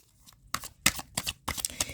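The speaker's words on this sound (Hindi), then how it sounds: "Last shuffle." Tarot cards being shuffled, a few quick soft riffling bursts and papery taps in uneven clusters after a quiet start, close and faint, with no talk.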